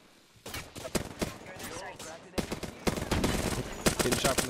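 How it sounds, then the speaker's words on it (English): Video game shooter gunfire crackles in rapid bursts and single cracks, getting denser and louder toward the end, with scattered speech-like sounds mixed in. "Getting shot from the cross hatch."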